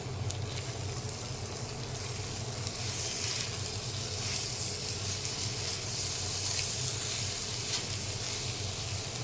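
A soft, continuous sizzle with a faint steady hiss of rice grains frying gently in ghee with browned onions for pulao, with a low hum underneath and no voices.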